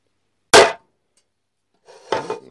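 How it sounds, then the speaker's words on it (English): A single sharp, loud metallic strike rings out alone, then after a pause a second, softer clanging hit follows as a hammer bangs onto metal. "Because you're banging onto metal"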